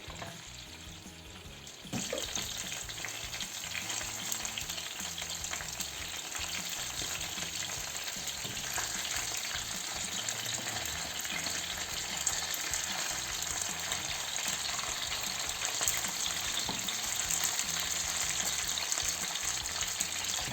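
Steady, dense sizzling of chicken breast frying in hot oil in a pan, starting after a short quieter moment and continuing evenly without pause.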